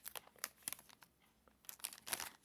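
The plastic wrapper of a COVID-19 rapid antigen self-test is torn open by hand without scissors, making close, crisp crinkling and tearing bursts in two clusters with a short pause between them.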